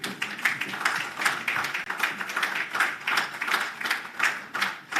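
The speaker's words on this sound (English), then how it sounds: "I just want you to clap the claps" Audience applause at a women's trade launch event, steady crowd clapping with many overlapping hand claps at moderate loudness throughout, no speech over it.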